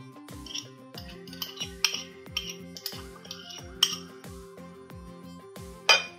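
A spoon clinks rhythmically against a bowl while cookie dough for chocolate brownie cookies is mixed with milk, vanilla essence and butter. The strokes are close and repeated at a steady pace, with a few sharper knocks.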